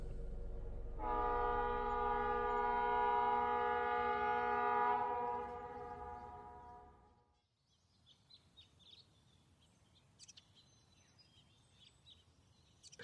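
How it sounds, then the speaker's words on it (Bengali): A train whistle used as a sound effect in a Bengali audio drama, set at a railway platform: a long, loud harmonic blast holds steady for several seconds, then fades into quiet background ambience with faint chirps. "চায়ের গরম ভাঁড়ে চুমুক দিতেই ট্রেনের বাঁশি বাজল।"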